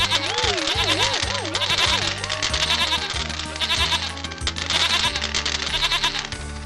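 A goat in a Hindi folk story bleats in long, wavering cries with a wobbling pitch, repeated over a lively musical backing with a steady beat.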